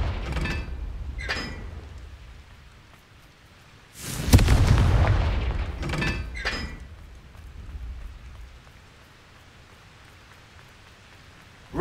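Confringo spell blasts in the Hogwarts Legacy video game land as a loud booming explosion with a crackling, rain-like rumble, framed by a few sharper magic zaps and a steady low ambient bed.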